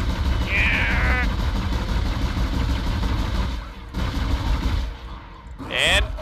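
Rapid gunfire booms and sci-fi weapon blasts in the Dead Space game while firing the ADS cannon, loud and continuous with electronic chirps, then a few more shots and a rising mechanical whine.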